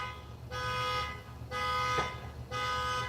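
An alarm goes off nearby, repeating a steady electronic tone in on-off pulses about a second long, moderately loud with no voices over it.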